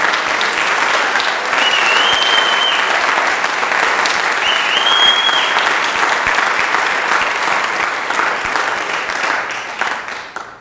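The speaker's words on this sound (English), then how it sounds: "That deserves a round of applause." A lecture audience breaks into a loud, full round of applause at an award lecture event, dense sustained clapping that swells and then tapers off toward the end.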